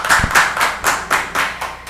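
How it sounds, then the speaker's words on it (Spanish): Scattered hand claps from a small group at an academic talk, quick and uneven, close by and fairly loud, with no voices over them. "démosles un aplauso"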